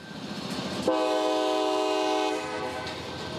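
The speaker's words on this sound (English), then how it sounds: "As the train would pull down towards the switch, the engineer would bring the train to a stop" Freight train pulling toward a rail switch at night, its horn sounding a long, loud sustained blast over the steady rumble of the moving train.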